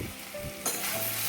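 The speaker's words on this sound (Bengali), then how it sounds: "তো আমি আলুগুলোকে ভালো করে নেড়ে নিতে থাকছি" Potatoes for alur dom frying and being stirred in a pan, a steady close sizzle with a louder burst of spatter partway through and faint scraping underneath, no voices.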